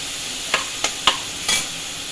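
A spice mix goes into sizzling pepper ghonto as it is stirred, a steady frying hiss with four sharp scraping stirs spaced through it, close and clear, with no voices.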